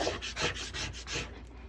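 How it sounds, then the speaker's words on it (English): Transfer tape being burnished over glow-in-the-dark vinyl layered on black reflective vinyl, a close, dry rubbing rasp in several repeated strokes, rising and fading in a steady back-and-forth rhythm. "We'll burnish the front."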